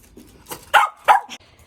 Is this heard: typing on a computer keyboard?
no